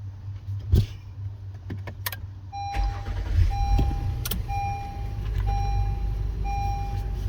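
Car engine being started, with clicks and thumps of handling before a steady idle settles in, joined by repeating electronic chimes; close and moderately loud, no talk.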